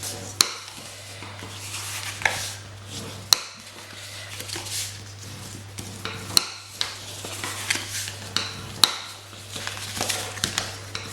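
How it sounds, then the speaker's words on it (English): A bone folder creases and burnishes score lines on paper for a gift box lid, producing sharp clicks and brisk rubbing strokes at irregular intervals over a low steady hum. "I'm just going to quickly fold and burnish along all of those score lines."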